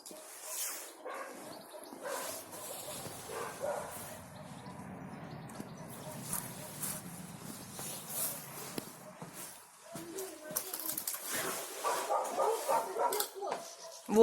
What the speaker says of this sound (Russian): Там собак.